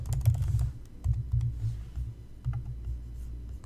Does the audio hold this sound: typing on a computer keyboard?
yes